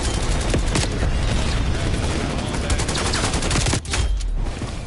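Dense rapid gunfire and explosive booms from a PS4 shooter game, a loud continuous barrage of shots with a brief dip near the end.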